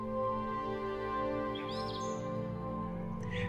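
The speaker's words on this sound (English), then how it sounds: "One of the most common birds in India, the robin" A couple of brief bird chirps rise over a constant droning hum, with a faint call near the end.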